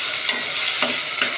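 Mint leaves tossed and stirred in a hot, sizzling frying pan while making egg biryani, a steady loud sizzle broken by three quick scraping stirs, close up with no talk.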